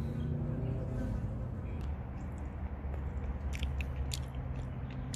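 Macadamia nuts being chewed during a taste test, a steady close crunching and munching that continues for several seconds with no talk.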